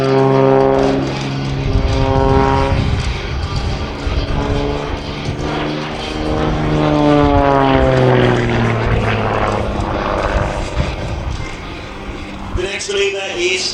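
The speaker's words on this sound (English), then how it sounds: "the aircraft will fall out of the sky while still continuing to spin" An aerobatic propeller aircraft spinning during an airshow display, its engine droning loudly with rising and falling pitch sweeps as it tumbles, steady and close, with a faint voice mixed in.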